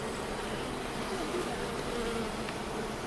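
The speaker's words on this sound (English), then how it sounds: "Yeah, that's a lot of bees." Bees swarm at a hive box screwed to plywood with comb built every which way, a dense steady buzz that fills the air continuously and evenly.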